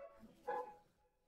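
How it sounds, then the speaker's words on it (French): A single dog's bark, short and moderately loud, rising briefly over a quiet indoor background with no speech. "Annie, ton chien a-t-il faim?"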